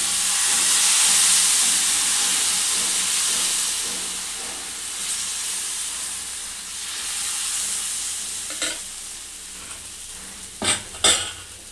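Rice flour dosa batter on an oiled hot pan gives a loud, steady sizzling hiss that slowly eases, followed near the end by a few sharp metal utensil clinks against the pan.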